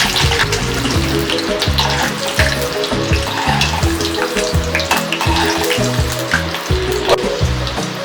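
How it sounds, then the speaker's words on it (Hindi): Garlic and curry leaves fry in hot oil with a loud, dense crackling sizzle and bubbling pops, continuous and close, with no talking. "कड़ी पत्ता, डालूंगा लहसुन। लहसुन को थोड़ा सा ब्राउन करूंगा।"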